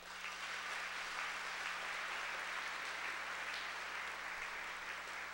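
Applause from teams seated on an arena floor at a sports tournament opening ceremony, a faint, even roar of many hands clapping heard from afar over a low steady hum.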